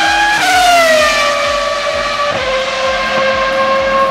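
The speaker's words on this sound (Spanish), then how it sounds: "No sé si has vivido la época de los V10, pero eran para muchos los motores con el mejor sonido de toda la historia." A Formula 1 car with a V10 racing engine screams past at high pitch. Its whine drops steadily as it goes by, loud and sustained, with no talking.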